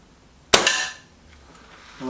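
A single sharp shot from a Stoeger XM1 .22 air rifle firing an Air Arms pellet, loud and close with a brief ringing tail, followed by a faint click near the end.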